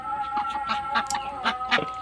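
Chinese ducks call during evening feeding at a village pond, a rapid run of nasal calls repeating several times within a couple of seconds, fairly close and clear.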